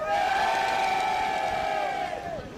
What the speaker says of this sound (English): Hear the cheering going on in the background there.